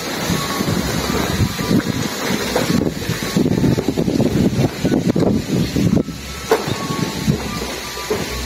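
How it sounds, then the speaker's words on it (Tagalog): Strong wind blowing hard against the microphone, a loud, continuous rumbling roar with gusty surges throughout and no voices. "Lakas ang hangin mga gar."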